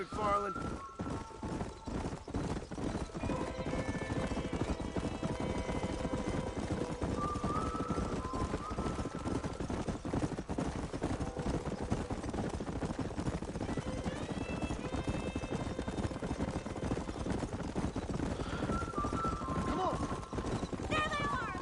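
Horse hooves clip-clopping with an occasional whinny in the Western video game Red Dead Redemption, set against a busy game soundscape of music and effects, with someone talking over much of it.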